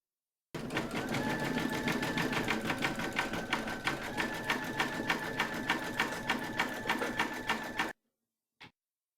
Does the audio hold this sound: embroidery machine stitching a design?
yes